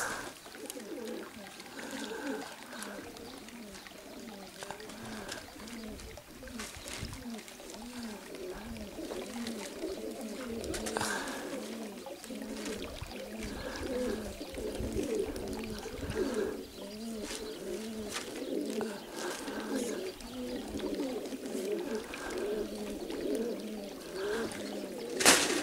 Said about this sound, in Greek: Αυτά είναι τα περιστέρια του Γιώργου